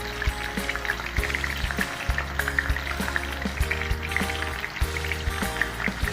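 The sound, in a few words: sweet potato frying in hot oil over medium heat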